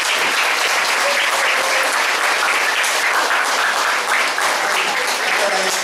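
Audience at a piano department graduation concert in Seoul breaks into loud, sustained applause, many hands clapping densely and close for several seconds, with faint crowd murmur beneath.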